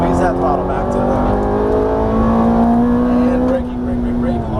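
Ferrari F430 accelerating hard on a race track, its engine note climbing steadily in pitch with strong harmonics, loud and close, while a voice talks over it.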